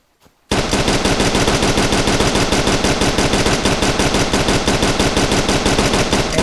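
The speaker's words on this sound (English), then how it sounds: "it fired as fast as I could pull the trigger" A gun in the Planet Explorers video game firing rapidly: after a brief click, a loud, continuous stream of evenly spaced shots runs unbroken for about six seconds with no speech.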